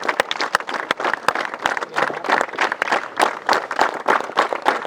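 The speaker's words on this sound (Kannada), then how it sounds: "ಎಲ್ಲರೂ ಚಪ್ಪಾಳೆ ಒಂದಿಗೆ, ಯಾಕಂದ್ರೆ ಆರ್ಮಿ ಯೋಧರನ್ನ ನಾವು ಗೌರವಿಸಬೇಕಾಗ್ತದೆ." A hall audience claps for an army soldier called to the stage, a lively, uneven applause of many hands that stays at a steady strength throughout.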